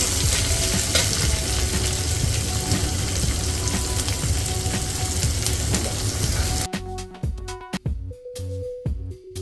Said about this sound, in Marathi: मग आपण कांदा टाकून तो सुद्धा यामध्ये परतून घेऊ